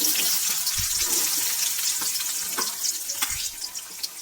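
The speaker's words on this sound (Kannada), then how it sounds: "ಕಡಲೆಬೇಳೆ ಫ್ರೈ ಆಗ್ತಾಯಿದೆ" Chana dal and chopped onions fry in a hot pan for a capsicum palya, giving a steady bright sizzle with a few soft scrapes and taps from stirring.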